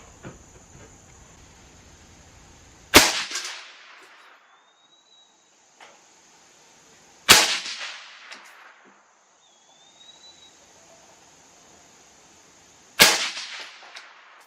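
An AR-X Lightfighter AR rifle fires Hornady Black .223 ammunition, three sharp loud gunshots spaced several seconds apart, each with a short decaying echo across the range, no talk between shots.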